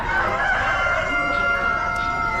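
Chickens at an Amish animal auction cluck steadily in open cages, with a rooster crowing through the noisy barn din. The sound holds loud and continuous throughout.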